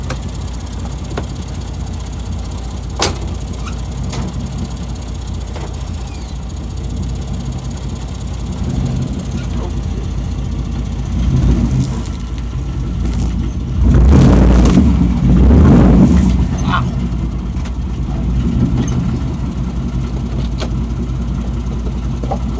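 A GMC Yukon truck climbs a stump, its engine idling steadily before revving louder in a couple of surges, then settling back to idle. One sharp knock sounds early on.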